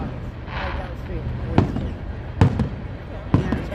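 Fireworks shot from a launch chute give three sharp pops spaced about a second apart, with a steady hiss beneath and people talking throughout.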